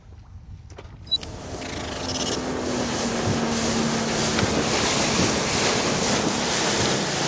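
Morning wind outdoors by the water on a perch fishing trip, a steady broadband roar buffeting the microphone that builds in the first seconds and then holds, no speech.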